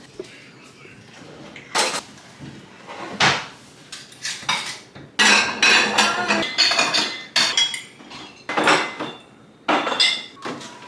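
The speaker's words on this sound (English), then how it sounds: "If anybody watching needs to do the dishes, here you go." Dishes are washed by hand in a home kitchen, with repeated clattering of plates, pots and cutlery in uneven bursts, close and loud, some louder knocks among them.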